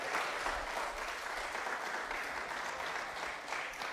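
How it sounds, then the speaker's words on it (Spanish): A church congregation at a Sunday service claps to welcome a guest, a continuous, even patter of many hands held at moderate distance for several seconds. "Démosle una grata bienvenida también con un aplauso."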